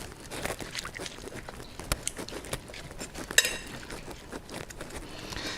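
Cucumber salad dressed with vinegar is tossed and stirred in a bowl, giving irregular clinks, taps and wet patter up close, with one sharper clatter partway through.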